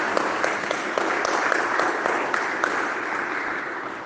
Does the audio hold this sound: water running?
no